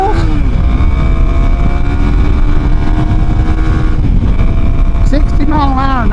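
A 2026 Kawasaki KLX300 motorcycle with a smaller front sprocket cruises a service road in sixth gear near 57 mph, giving a loud, steady engine drone mixed with wind rush throughout, with a brief voice near the end.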